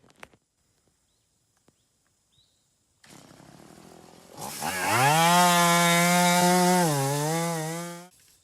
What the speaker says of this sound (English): Just put the chainsaw brake on.